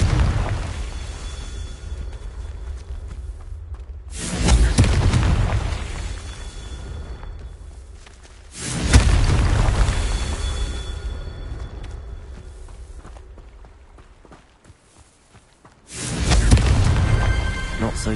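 Confringo spell explosions in Hogwarts Legacy, four loud booming blasts a few seconds apart, each a sudden burst that rolls off into a long rumbling decay, with no talk.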